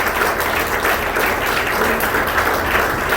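A church congregation at a Spanish-language sermon applauds loudly and evenly, a thick continuous roar of clapping with no break.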